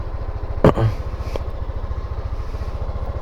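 A motorcycle engine idles steadily and smoothly after an oil change, a low, even, close rumble that continues throughout while someone talks over it.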